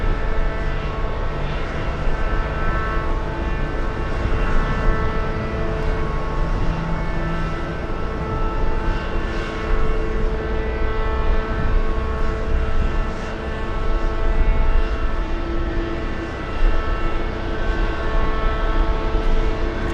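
A JetBlue airliner comes in to land at Boston Logan International Airport, its engines a continuous loud jet roar with steady whine, heard alone and sustained throughout.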